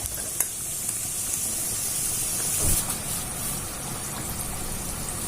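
Egg puffs frying in hot oil give a steady, dense sizzle throughout, a continuous crackling hiss with a few small pops and a brief louder surge midway, close and alone with no talking.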